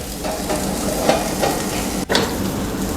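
Korean chicken wings sizzling on a grill tawa give a close, steady frying hiss with light crackle, briefly interrupted by a soft clatter of utensil handling.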